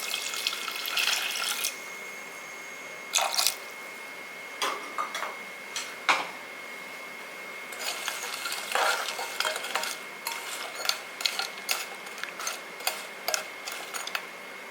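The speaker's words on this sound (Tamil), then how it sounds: "கருப்பட்டி நல்லா பொங்கி வரட்டும்." Palm jaggery (karupatti) melting with water in a pan while making appam batter, giving soft intermittent bubbling, crackling and stirring sounds close by in a quiet kitchen, with no talk.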